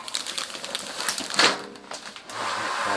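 An ultrasonic cleaner runs loudly with a dense, hissing buzz that rises to a sharp peak midway, then settles into a steady roar.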